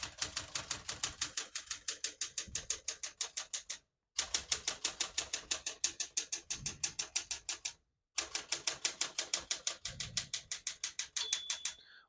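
Rapid, steady clacking of 1967 Smith-Corona Super Sterling portable manual typewriter keys in bursts of about four seconds, each ending in a short pause, close and crisp.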